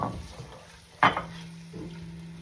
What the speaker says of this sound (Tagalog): Ilalagay ko na po ang minced garlic.